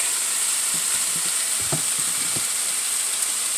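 Food sizzles and fries steadily in a pan during home cooking of a budget meal, a continuous hiss with a few soft stirring knocks near the middle, close and alone with no talk.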